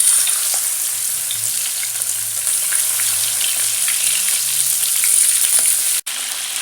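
Battered prawns deep fry in hot oil, a steady loud bubbling sizzle throughout, briefly cut by a sharp break near the end.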